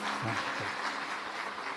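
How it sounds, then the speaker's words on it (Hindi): Live audience at a Shiv Puran katha at Kashi Vishwanath clapping together, a steady dense wash of applause filling the whole moment with a faint low murmur beneath. "एक बार जोरदार ताली बजाकर।"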